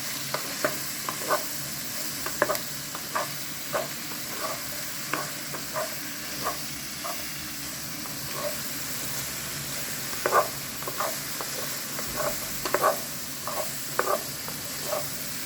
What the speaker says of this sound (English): Add our diced garlic and mix it up